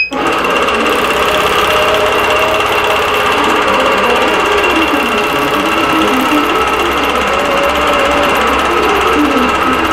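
A quilting sewing machine stitching out a continuous design, its loud, rapid mechanical needle chatter running steadily with a gently wavering hum and no speech.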